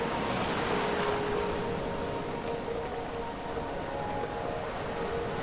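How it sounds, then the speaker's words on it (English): Pacific ocean swells roll under a sailing boat in Alaskan waters, a broad steady rush of water and wind with a faint tonal hum, continuous and fairly loud without talk. "the steady rhythm of rolling swells stretching out to the horizon"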